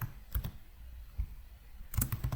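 Keys on a computer keyboard tapped in short bursts, a few clicks near the start and a quicker cluster of keystrokes at the end, close and fairly quiet with no talking.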